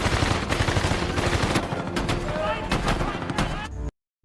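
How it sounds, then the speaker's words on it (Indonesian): Enemy soldiers fire guns from hillsides in a World War II battle film, with rapid machine-gun bursts and scattered rifle shots. The fusillade is dense and continuous, then cuts to silence near the end. "pasukan musuh menembaki mereka dari atas perbukitan"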